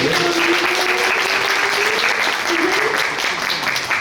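A crowd at a Korean fan meeting for a Japanese gravure model claps in sustained, dense applause that runs loud and even throughout.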